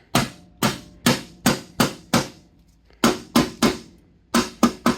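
Metal hammer blows on a Ford 861 PowerMaster tractor part to loosen it, a dozen sharp ringing strikes in uneven bursts, close and loud with brief pauses between groups.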